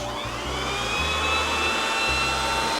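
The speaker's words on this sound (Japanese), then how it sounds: "まず表面を少しドライヤーで温めます。" A hair dryer blows warm air over the surface of set chocolate bonbons, a loud, steady whirring hiss with a constant high whine. A low hum pulses on and off beneath it, close and unbroken for the whole stretch.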